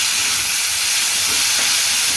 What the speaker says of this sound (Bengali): এখানে একটু পেঁয়াজ দিলাম, একটু টমেটো দিলাম, অল্প টমেটো দিলাম, দিয়ে এটাকে ভাজা করবো।